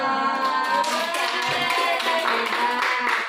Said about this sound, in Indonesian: Kasih aplaus dong.